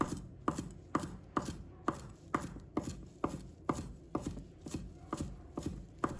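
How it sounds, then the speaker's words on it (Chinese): Coriander is chopped into short pieces on a board, giving about a dozen crisp, evenly spaced knife strikes, close and steady, with no talking. "把它切成小段"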